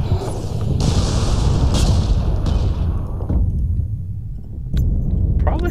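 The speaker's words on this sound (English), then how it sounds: "Throw a grenade." A grenade goes off in the online shooter Ghost Recon Online as a loud booming blast. A long rumbling tail fades out, then a second, weaker thud follows near the end.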